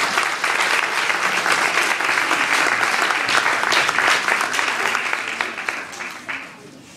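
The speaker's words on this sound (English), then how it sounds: "Please give them a nice round of applause." Sustained applause from an audience at a school winter concert, steady dense clapping lasting several seconds before tapering off near the end, with some talk beneath it.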